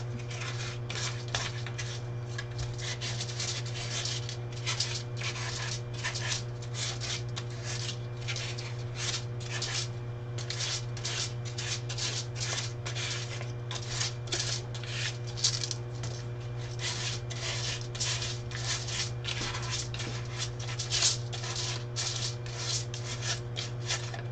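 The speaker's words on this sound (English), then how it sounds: "And as I'm sanding, I'm also sanding down some of the newspaper that's being pulled up." A headdress is hand-sanded, the paper also scuffing up newspaper stuck to it: continuous fast, rhythmic rasping strokes, close and steady, over a low electrical hum.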